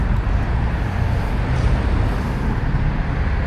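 Loud, continuous roadway roar of vehicles rushing past close by, a broad wash of traffic noise with no voices.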